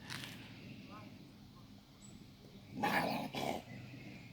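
A stray dog outdoors gives faint growls and a brief burst of barking at a distance, under low background noise with talking nearby.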